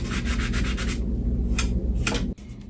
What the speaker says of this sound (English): I took a sand pad and lightly sanded away some of the exposed glue.